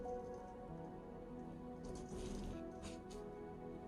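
Water drips and trickles steadily from a handful of squeezed wet soil, a close, continuous patter with a squishy texture and no talk.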